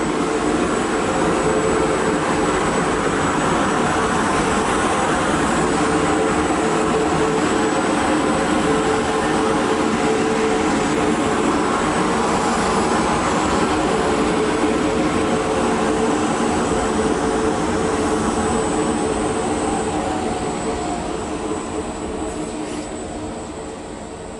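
Loud, steady rush of air through the cabinet of a running Gyro Air G700 dust processor, a broad whooshing drone with a low hum underneath, fading slightly at the end.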